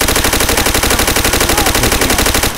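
Rapid, loud, continuous machine gun fire in the World War II shooter Call of Duty: World at War, a steady stream of evenly spaced shots that ends abruptly.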